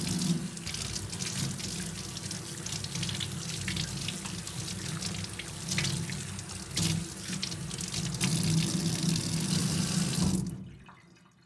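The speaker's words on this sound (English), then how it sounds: "Wash your hands first." Hands are washed under a steady stream from a running tap into a sink, with water splashing continuously at close range before it cuts off near the end.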